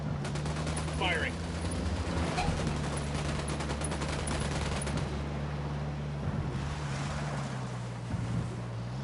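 Video game gunfire crackles in rapid bursts over a low engine drone and wash of water, loud and sustained, with a voice talking at moments.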